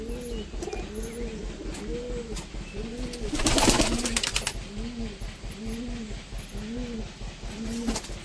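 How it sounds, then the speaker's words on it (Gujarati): About thirty pigeons coo in a steady, repeating rhythm nearby, with a brief burst of fluttering or rustling noise in the middle. "કેટલા કબૂતરા છે ભાઈ ત્રીસક ત્રીસક કબૂતરા"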